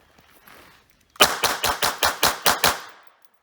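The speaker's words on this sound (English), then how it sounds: "just kind of a mag dump and see how many I can get in that left target" A Hi-Point CF380 pistol dumps its magazine at a shooting range: about eight loud, sharp shots in rapid, evenly spaced succession, each ringing briefly, after a short stretch of quiet ambient noise.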